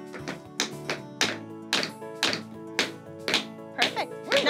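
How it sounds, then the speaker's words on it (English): Tap shoe toes tapping on a floor during a tap dance lesson at a theme park, about eight crisp, sharp taps in a steady rhythm, close and clear with no speech over them. "Put that leg out, don't let it move, but you tap your toe."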